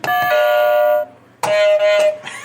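A game-show buzzer with a bright electronic doorbell sound chimes twice in quick succession, each tone ringing out clearly and loudly before cutting off.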